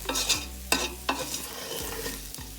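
Carrots stirred in a pot for Guyanese cook-up rice, a spoon scraping and clattering in a few firm strokes over a soft sizzle, close and loud, with no talking.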